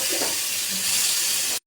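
Mustard-coated eggplant frying in a pan gives a steady, close hiss of sizzling throughout, then cuts off abruptly.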